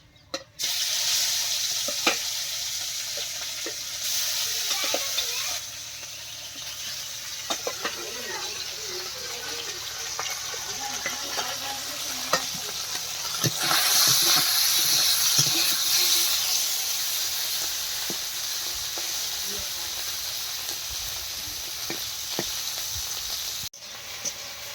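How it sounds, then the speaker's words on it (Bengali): Fish hisses and spatters as it fries in a pan, a steady sizzle lasting about twenty seconds with occasional sharp pops and clatter, swelling midway before fading at the end. "মাছ কিন্তু আবার ভাজা বসিয়ে দিচ্ছি।"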